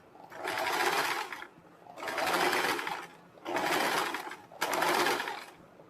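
A sewing machine stitches along a garment neckline, in four even, close bursts of whirring of about a second each, with short gaps between.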